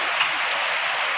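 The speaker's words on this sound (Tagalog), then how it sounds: "Man grabe ka kusog sa ulan guys." Heavy rain pours down in a dense, steady hiss of drops pounding a surface close by, continuous and loud throughout with no talking.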